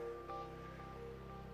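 Surf on a beach while hunting for beach glass, a steady wash of waves rolling in, close and continuous, with wind noise and a low rumble underneath.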